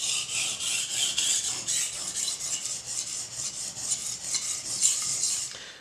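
Kitchen knife stroked back and forth on a 1000 grit whetstone, a steady series of rhythmic rasping scrapes, close and moderately quiet, with no voices.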